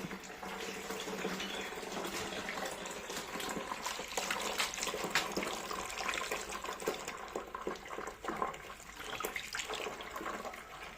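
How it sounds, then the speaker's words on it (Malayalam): Fresh rubber latex strained through a filter ahead of sheet making, giving a steady, faint, continuous trickling and splashing of liquid with no pauses and no talk. "അതിനായിട്ട് കറ അരിച്ചെടുക്കുകയാണ്"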